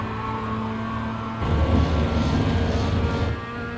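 A Mazda MX5 engine roars at full throttle in iRacing at Summit Point, a steady buzzing drone that swells louder partway through and keeps pulling before easing slightly at the end.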